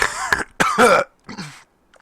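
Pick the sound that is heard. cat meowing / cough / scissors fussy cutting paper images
cough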